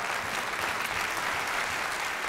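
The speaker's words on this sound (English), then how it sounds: "You ought to all be clapping on that one." Church congregation applauding, a steady, dense wash of clapping from many hands that holds evenly at moderate loudness throughout, with no speech over it.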